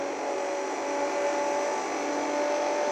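Sustained racing engine drone of an Audi S4 in the mobile racing game Asphalt 8 during a multiplayer race, a steady, loud high-revving tone holding throughout with no speech.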